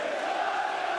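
A huge crowd at a Premier League darts match in Dublin roars in a steady, dense wall of cheering that fills the hall without a break.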